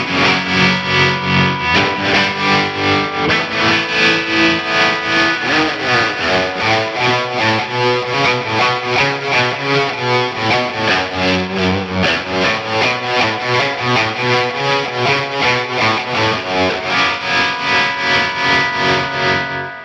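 Electric guitar played through an Axe-Fx III with deluxe spring reverb and tremolo, drive switched off, ringing out loud and steady in a continuous run of chords and notes with a pulsing shimmer and no talking.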